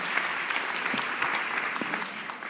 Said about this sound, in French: on applaudit l'équipe technique aussi